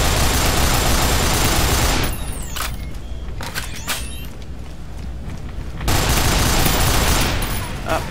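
Chain gun fire in the game Nuclear Dawn sounds as a dense, loud, continuous burst that cuts out for a few seconds and then resumes just as heavily, with no voice over it.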